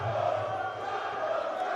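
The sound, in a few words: crowd cheering at Muay Thai fight night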